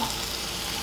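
Onion and tomato sauté in a pan for squid curry, a steady close sizzle of frying with no voices over it.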